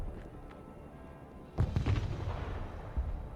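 In the video game Broken Arrow, a Javelin anti-tank missile fires with a sudden loud boom and whoosh after a quiet stretch, followed by rumbling battle noise with a few faint distant pops.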